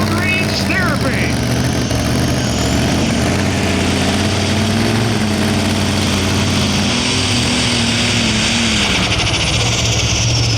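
Alcohol-burning super stock pulling tractor from Alliance, Ohio roaring down the track during a pull at Dragway 42, a loud, sustained, rough engine howl with shifting pitch, crowd and announcer voices mixed beneath.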